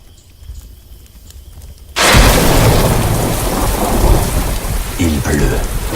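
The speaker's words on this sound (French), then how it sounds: "Il pleut." After a quiet start, a sudden crack of thunder breaks into a loud, steady downpour of rain with low rumbling underneath.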